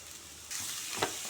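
Cut cabbage drops into a hot pan of onions, turmeric and spices, setting off a sudden loud sizzle that keeps frying steadily, with a brief stirring scrape near the end.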